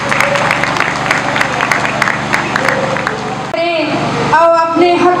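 Audience applause welcoming a woman to the stage at a Minority National Alliance International Women's Day program; a dense wash of clapping rolls on for a few seconds, then a voice speaks loudly into a microphone.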